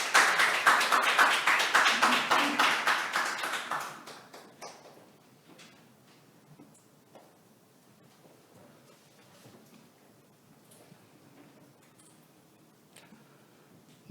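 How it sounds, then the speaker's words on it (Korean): An audience at a children's welfare forum gives a loud burst of applause that lasts about four seconds, then fades into a quiet hall with scattered small knocks and shuffles. "큰 박수 부탁드립니다."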